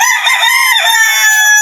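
A rooster crowing loudly and close by, one harsh drawn-out call.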